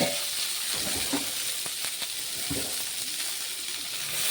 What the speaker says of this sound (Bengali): ফুলকপিটা আমি ভাজতে দিয়েছি। চলো আগে ফুলকপিটা ভেজে নিই।